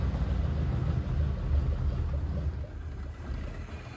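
A Mercury outboard motor with a stuck carburetor float struggles to idle, a close low rumbling engine note that surges unevenly and sags in loudness as it falters.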